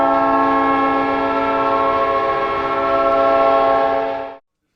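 An NHL goal horn for the Winnipeg Jets blares as one sustained, loud, train-horn-like chord of stacked tones, holding steady for about four seconds before cutting off abruptly.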